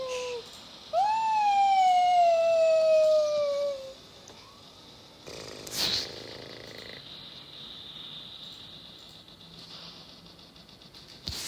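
A wailing, rising-and-falling siren-like howl in the game War Robots sounds loudly for a few seconds, then fades into quieter electronic tones and a brief burst of noise.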